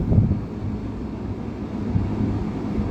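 Steady wind rumbles and buffets the microphone outdoors on a hot, high spot, a low continuous roar with slight gusts.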